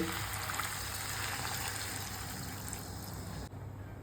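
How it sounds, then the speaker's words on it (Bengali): Hot water poured into cooking jackfruit curry, a steady, even rush of liquid that runs close and continuous for several seconds before cutting off abruptly near the end. "এইবারে দিয়ে দেবো গরম জল"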